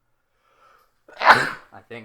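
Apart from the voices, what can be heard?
sneeze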